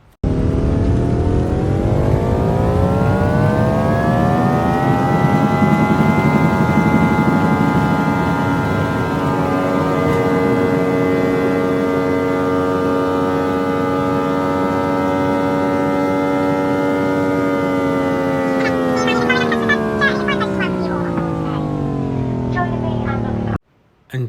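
A British Airways Boeing 777-200 takes off from London Gatwick, played back sped up. A loud, continuous jet engine roar with layered whining tones swells and shifts in pitch, then drops away abruptly at the end.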